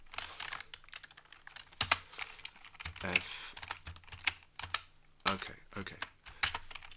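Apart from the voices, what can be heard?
typing on an Arabic computer keyboard with stickers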